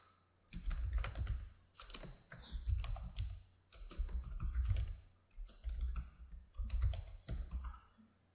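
Alt text is typed on a computer keyboard in bursts of rapid, close key clatter separated by short pauses, with no voices.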